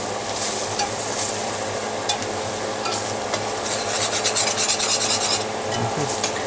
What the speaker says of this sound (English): we have to cook this now for a couple minutes so that the roux will be well cooked